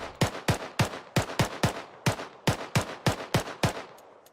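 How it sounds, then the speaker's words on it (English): A rifle in the military video game ArmA 3 fires a full magazine, about a dozen loud close shots in an even, deliberate rhythm with a short pause midway, no talking. "So you just fire like all your rounds."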